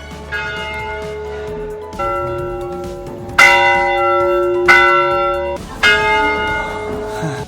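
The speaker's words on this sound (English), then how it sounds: "we could ring the bells that could be heard all over the settlement." Church bells at a settlement on South Georgia island ring out loudly in a series of strong, resonant strikes, each tone lingering and overlapping the next.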